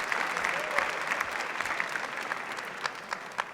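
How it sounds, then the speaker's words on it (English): Audience applause at a university AI hackathon awards session, a steady wash of many hands clapping that holds through the whole stretch with a few sharper claps near the end, moderately distant. "Let's give them a round of applause."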